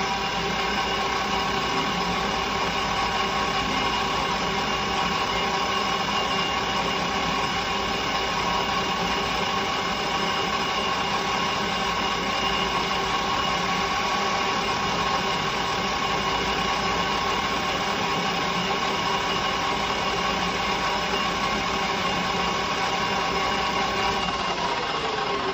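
A metal lathe faces the rear end of a parted-off steel bar held in the chuck, giving a steady, continuous machine drone with a faint rising whine near the end, loud and close with no talking.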